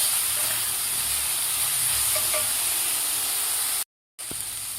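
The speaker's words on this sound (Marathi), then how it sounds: "आता 2 मिनिट आपल्याला हे टोमॅटो आणि मसाला व्यवस्थित परतून घ्यायचा आहे" Tomatoes and masala sautéing in a pan for an aubergine curry, a steady, dense hiss of sizzling throughout that cuts out abruptly for a moment near the end before resuming.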